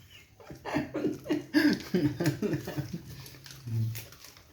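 An old pet dog gives a quick run of whimpering, yipping vocalizations close by, followed by a lower drawn-out whine after a short pause.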